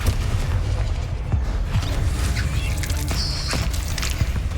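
A Descendo spell cast in the video game Hogwarts Legacy lands as a deep, rumbling boom. Scattered bursts and pops follow, all over a dense, steady wash of game ambience.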